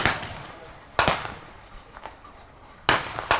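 Blank rounds fire in a WW1 battle re-enactment at Tank Fest 2025, with a few sharp cracks spaced across the moment, the loudest near the start and toward the end, over faint outdoor background.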